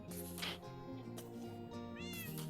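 A Minecraft cat meows a few times in a soft, quiet game soundtrack, the meows rising and falling over steady background music without speech.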